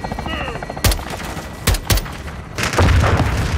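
Air strike explosions and gunfire in the video game Modern Warfare 2: sharp, loud blasts land near 0.8, 1.7 and 1.9 seconds, followed by a sustained rumbling barrage over steady battlefield noise.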